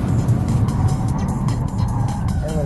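A 2009 Nissan GT-R or 2006 Ford GT accelerating on a race track, a loud, steady engine roar that holds throughout, with a faint rising whine near the end.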